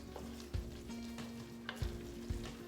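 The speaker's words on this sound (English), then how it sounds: "So I'm cooking that flour for approximately 2 more minutes" Flour and mushrooms frying in a pot while being whisked, a steady close sizzle broken by a few soft thumps and scrapes of the whisk against the pot.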